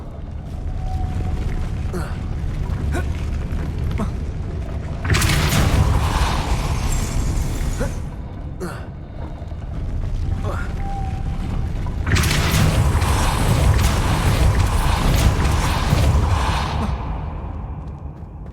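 Confringo spell blasts in the Hogwarts Legacy video game, two loud roaring bursts of broadband noise each lasting a few seconds, with gasping or sighing vocal sounds in between.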